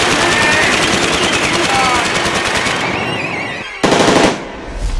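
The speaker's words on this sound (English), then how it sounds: "they just opened up on us with belt-fed machine guns" Sustained, loud rapid bursts of belt-fed machine gun fire during an ambush, dense and continuous before cutting off, followed by a brief final burst.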